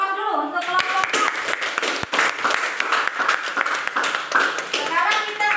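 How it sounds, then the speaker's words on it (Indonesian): A classroom of students claps for group 4, a loud close burst of many hands clapping that goes on without a break, with children's voices mixed in. "beri aplaus dulu untuk kelompok 4"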